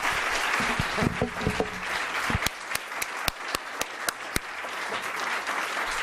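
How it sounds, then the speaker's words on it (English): Lecture audience applauding after a talk on good governance, a full round of clapping that thins toward the end into a few distinct, spaced claps. "Please join me in applauding the room."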